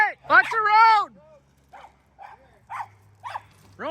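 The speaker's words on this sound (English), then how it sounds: "He's having fun with the homeowner's dogs." Dogs playing at a home during foundation footing work let out a drawn-out whining howl up close, then several short yips and barks with pauses between them, mixed with some talking.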